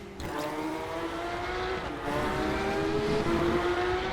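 A Porsche 911 race car engine in the RaceRoom racing game howls loudly at high revs, with a sharp upshift midway before pitch climbs again. No one speaks.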